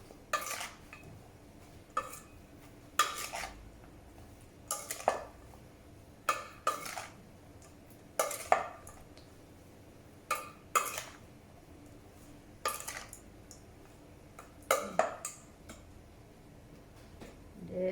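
Grilled beef for a Thai beef salad is tossed in a bowl, giving sporadic sharp clinks and scrapes of a utensil against the dish with quiet pauses between them.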